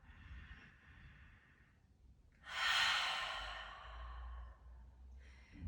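A slow, audible exhale at the close of a morning stretching session, preceded by softer breaths; the main sigh is a soft airy rush of breath close to the mic, fading out gently.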